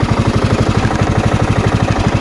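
A Craftsman LT1000 lawn tractor with a rebuilt Briggs engine runs at a steady idle, a loud, close, even chugging throb that pulses rapidly and unchanging throughout.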